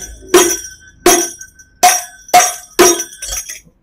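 Hadroh frame drum struck by hand, five sharp separate hits with short ringing jingle-like decay, spaced irregularly about half a second to a second apart, close and fairly loud with no talking.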